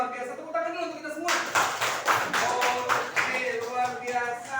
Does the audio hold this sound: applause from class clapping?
yes